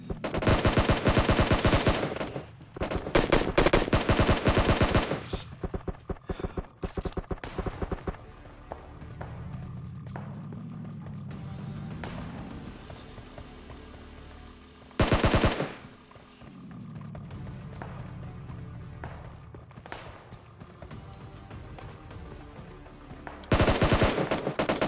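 Automatic gunfire in PUBG Mobile rattles in loud rapid bursts at the start, mid-way and at the end, with quieter in-game ambience and movement between the volleys.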